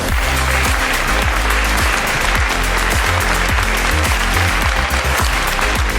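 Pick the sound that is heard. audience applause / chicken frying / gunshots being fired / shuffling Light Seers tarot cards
audience applause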